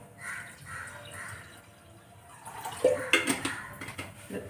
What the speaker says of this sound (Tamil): இதுக்கு வேணுங்கிற அளவுக்கு தண்ணி ஊற்றிக்குவோம்.